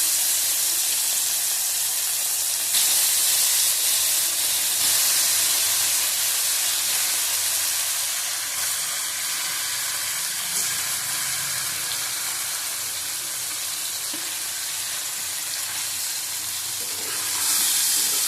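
Boiled taro corms fry in oil with turmeric in a pan, giving a loud, steady sizzle and hiss with occasional stirring scrapes, carrying on for the full stretch without talk.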